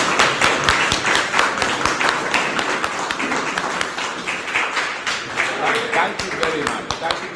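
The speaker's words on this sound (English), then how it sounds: "Please stand up and clap for ourselves." An audience stands and claps, a dense patter of many hands filling the room steadily, with talking heard over the applause.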